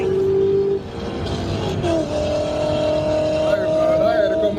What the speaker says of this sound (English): look at these Mustangs finna do a run